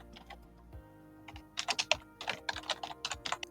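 Keyboard typing while renaming a workflow node to a tweet generator: quiet at first, then a quick run of close, crisp keystrokes with irregular clicks and taps, no voices.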